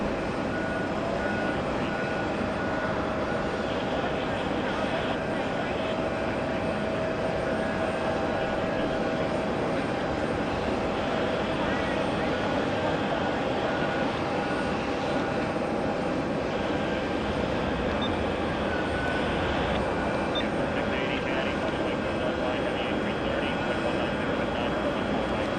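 An airliner from Rome roars steadily as it lands on runway 4 Right at JFK. The loud jet noise carries on without a break for the whole stretch.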